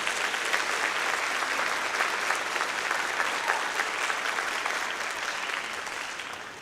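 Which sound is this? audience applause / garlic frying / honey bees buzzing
audience applause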